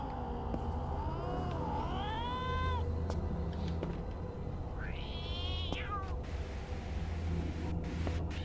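Two cats in an apartment give drawn-out, rising-and-falling meows, one around the second mark and another a few seconds later, heard fairly clearly over a low background rumble.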